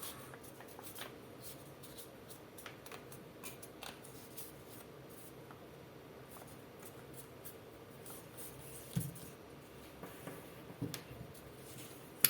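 Paper being creased and folded into an origami octopus, with soft rustles, rubs and occasional crisp crinkles close by in a quiet room.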